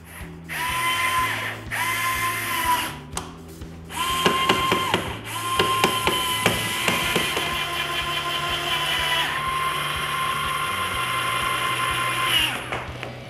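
A power screwdriver driving screws into structural brackets while a clean room is assembled, loud whirring runs that start and stop with ratcheting clicks and metallic taps between them, close by.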